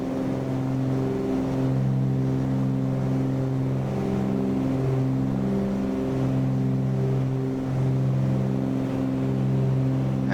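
Twin-engine Cessna 310R piston engines at climb power in Microsoft Flight Simulator, 2500 RPM and 24.5 inches manifold pressure, droning steadily and evenly throughout with a strong low harmonic hum and no talk.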